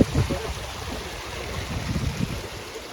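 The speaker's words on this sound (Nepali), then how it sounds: "चाहिँ गाउँको खोला हो होइन" A village stream flowing where friends go swimming, a steady low rushing and gurgling of water heard close, with a few faint bumps and splashes and no clear speech.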